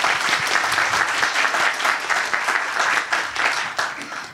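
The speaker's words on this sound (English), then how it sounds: "please give applause to Mr. Bill again for a great speech" Audience applause after a motivating speech at a corporate talk, dense steady clapping sustained for several seconds, fairly loud and close, with a faint murmur of voices beneath.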